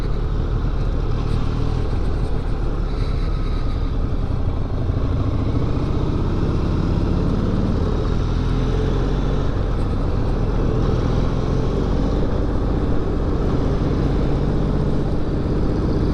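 A Harley-Davidson X500 motorcycle being ridden in Tamworth, NSW, with its engine giving a loud, steady rumble mixed with wind roar throughout and no breaks.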